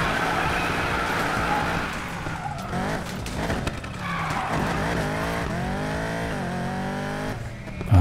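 Car racing in Need for Speed Payback, with a continuous loud engine drone, tires skidding and squealing through corners, and the engine pitch rising and falling through gear changes for the whole stretch.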